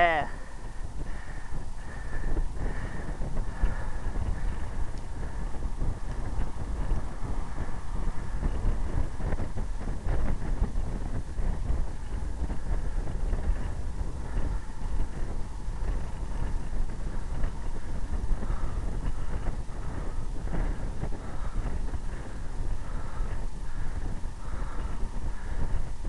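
Wind buffets the microphone steadily during a breezy road bike ride, a constant low broadband roar with faint tire and road noise, lasting throughout.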